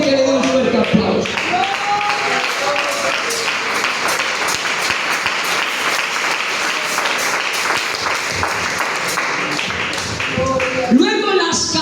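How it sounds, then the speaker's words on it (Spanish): A church congregation applauds loudly during a sermon, dense sustained clapping with crowd noise, plus shouts and voices rising at the start and again near the end. "Alguien que le dé un fuerte aplauso."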